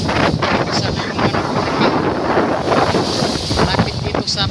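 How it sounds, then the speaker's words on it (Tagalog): Strong southwest monsoon wind in Isabel, Leyte, roaring steadily against the microphone beside the shore, with heavy waves churning the water; continuous and loud with no pauses. "parang hinahalukay sa sobrang lakas ng alon."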